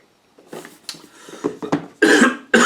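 A few rough coughs and throat-clearing sounds, close by, ending in two loud harsh bursts.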